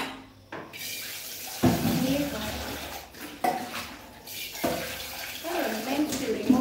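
Tilapia fish rinsed under a running kitchen tap, water splashing in several bursts that rise and fall, with a person talking alongside.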